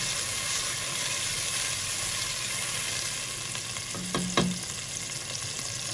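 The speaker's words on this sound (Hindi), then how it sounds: "मिक्स करके 2 से 3 मिनट के लिए पकने के लिए रख देंगे।" Minced meat fries with ginger-garlic paste in a pan, making a steady close sizzle, and a spoon scrapes and clinks briefly near the end as it is stirred.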